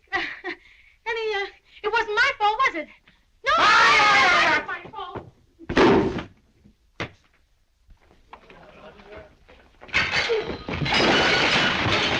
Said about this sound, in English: Any mirror can just fall down and break.